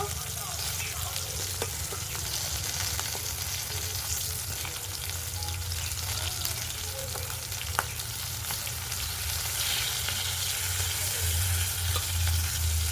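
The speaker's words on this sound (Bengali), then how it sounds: "বেগুনগুলো দেখুন একটু করে নেড়ে দেব" Eggplant pieces fry in oil in a pan while being stirred, making a steady, loud sizzle with occasional scraping clicks from the stirring, continuous throughout.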